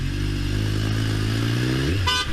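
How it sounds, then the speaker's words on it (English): A car horn gives a short, sharp honk at the very end, sounding over a steady, loud motorcycle engine drone heard from the rider's position in traffic. "they honked at you because you took their space"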